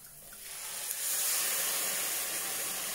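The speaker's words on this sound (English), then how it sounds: "Sizzle off the bottom." White wine poured into a hot pan of softening asparagus sizzles into a loud, steady hiss that swells within the first second and holds, with no talking.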